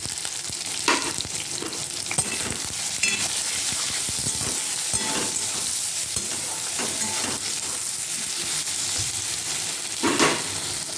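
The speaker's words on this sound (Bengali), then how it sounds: "বেগুনগুলো একটু লাল লাল করে ভেজে নেব" Eggplant slices frying in oil in a pan, a steady close sizzle with occasional stirring scrapes and brief clinks throughout, no voices.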